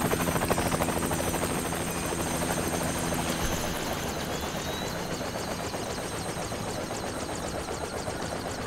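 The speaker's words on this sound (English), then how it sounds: "there's also a helicopter that's making a lot of noise" A steady, loud video-game helicopter drone with rapid rotor chopping over a Manhattan penthouse in Splinter Cell: Chaos Theory, continuous throughout without pauses.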